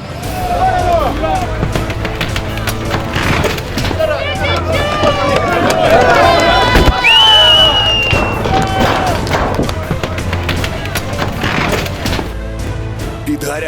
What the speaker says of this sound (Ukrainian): Обурений натовп змітає бетонні плити, наче картковий будинок